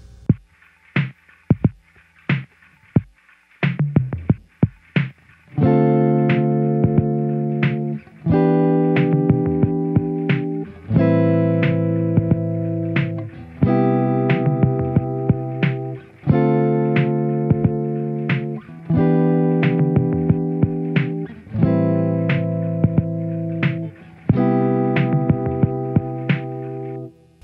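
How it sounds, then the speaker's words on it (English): Electric guitar plays a 2-3-6-1 chord progression in C, straightforward with no embellishment. A few muted picked notes come first, then steady strummed chords repeat in an even rhythm with a slightly distorted tone. No voices are heard. "The progression 2-3-6-1 with no embellishment, straightforward, would sound like this."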